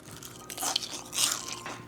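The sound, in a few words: crunch of biting into fried hashbrowns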